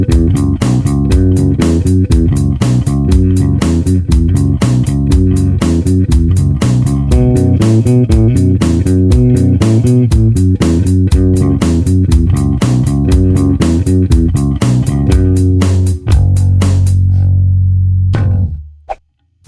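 Bass guitar plays a bass line over a programmed drum beat at about 120 BPM, steady and loud throughout with a driving rhythm, then stopping abruptly near the end.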